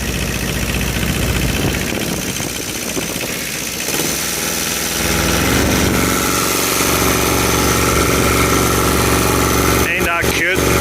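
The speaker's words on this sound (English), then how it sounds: "Little 2-cylinder 400cc diesel" The little 2-cylinder 400cc diesel engine of a mini excavator idles with a steady, loud, close chugging hum and constant vibration, with a few brief clicks near the end.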